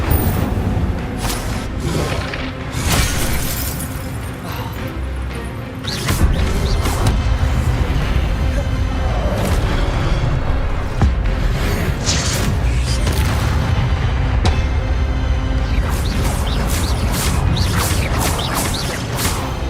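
Fire spell being cast in the video game Witch Simulator, a run of booming, whooshing magical bursts and crashes layered over dense game music and effects, loud and continuous throughout.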